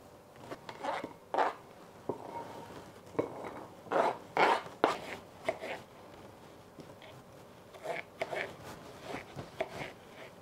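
A knife cutting strawberries and rhubarb into small cubes on a cutting board, with a series of short crisp chops and scraping strokes in uneven bursts, close up, under quiet speech.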